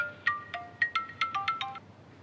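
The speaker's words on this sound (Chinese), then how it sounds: "我接个电话。" A phone ringtone plays a bright, melodic run of about nine chiming notes over two seconds, close and clear with nothing else audible, then stops and fades out.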